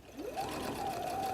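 A sewing machine revs up and stitches a messenger bag, its motor whine rising quickly then holding steady and close for a short burst.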